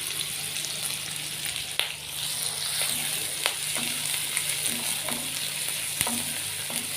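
Onions and green chillies frying in hot oil in a pan for restaurant-style palak paneer: a steady, close sizzle and crackle with a few sharp clicks and stirring scrapes, no voices.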